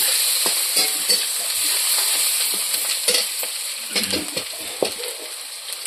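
Chopped onion and green chilli fry in a pan for poha, giving a close, steady sizzle with repeated stirring scrapes and clinks throughout.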